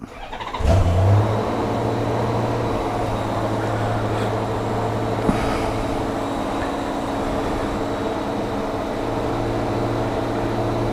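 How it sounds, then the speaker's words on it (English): A Honda GL1500 Goldwing motorcycle with freshly rebuilt carburetors cold-starts on full choke in cool weather, catching quickly and settling into a steady, slightly high idle that runs alone and close by. "I'm going to be doing a cold start."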